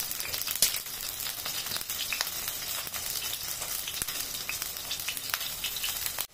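Oil sizzling and crackling in a pan while paneer is being fried, a dense, steady hiss with scattered pops and spits throughout, close and alone without speech.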